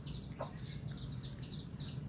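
Springtime hens with their chicks cluck softly in a farmyard, with high chirps scattered over a steady low murmur of background noise; fairly faint and without speech.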